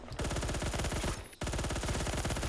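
Colt SMG gunfire in the shooter video game Phantom Forces, loud continuous automatic bursts with a brief gap near the middle before firing resumes.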